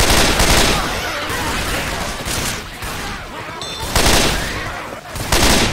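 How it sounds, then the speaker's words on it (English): Rapid bursts of gunfire ring out in Left 4 Dead 2, loud overlapping shots and automatic fire in clusters with brief lulls between volleys. "Where in the hell you think you're shooting?"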